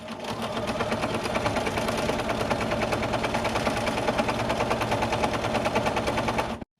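A sewing machine stitches steadily at close range during free motion quilting of fabric gift bags, its rapid even needle clatter running continuously for nearly seven seconds before stopping abruptly.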